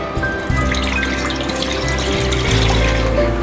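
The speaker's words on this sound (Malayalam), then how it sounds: "ഇതിലേക്ക് ആദ്യമേ തന്നെ നമ്മളൊരു 3 കപ്പ് വെള്ളം" Three cups of water poured into a heavy-bottomed pan on a lit stove for semiya payasam: a close, continuous splashing gush whose tone shifts as the pan fills, with no talk.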